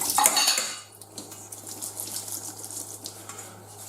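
Chunks of potato and carrot are tossed into a metal cooking pot, a sharp clattering burst of pieces hitting the pan followed by softer scattered clinks and rustling.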